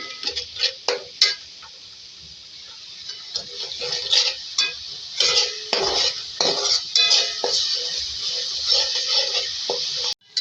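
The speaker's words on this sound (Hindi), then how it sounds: "इसको फ्राई करेंगे तो जो कच्चा खाना है वो खत्म हो जाए।" Ginger garlic paste fries in oil with a steady sizzle under repeated clinks and scrapes of a metal spoon stirring against the pan, loud and close, no talking.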